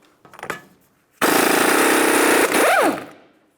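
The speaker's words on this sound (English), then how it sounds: "Let's remove our 30mm axle nut." A loud impact wrench rattles in a sustained burst lasting over a second while removing a 30mm front axle nut on a 2002-2005 Ford Explorer, then revs down with a falling whine; a few clanks come just before.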